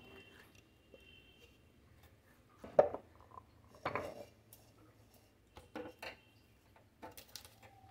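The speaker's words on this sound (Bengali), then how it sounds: "এগুলো মিক্সির জারে ভরে নেব।" Crushed spices being tipped into a mixer grinder jar in a home kitchen while cooking desi chicken curry, giving a few soft, scattered clinks and knocks of spice and utensil against the jar, with quiet pauses between them.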